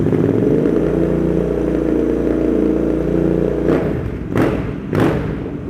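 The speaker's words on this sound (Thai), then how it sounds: "มาฟังเสียงท่อคันนี้กันหน่อย" A 2020 Royal Enfield Continental GT650 idles loudly through an aftermarket exhaust with a deep, throaty rumble, then two quick sharp revs blip up and drop back.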